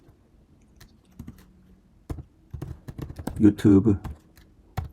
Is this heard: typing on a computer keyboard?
yes